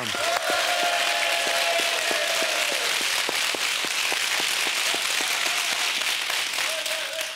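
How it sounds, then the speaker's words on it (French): A radio studio audience at a live game show claps for the previous day's winners, a loud, sustained, dense round of applause with a few crisp single claps and brief tonal sounds and voices mixed in. "On peut applaudir les gagnants d'hier."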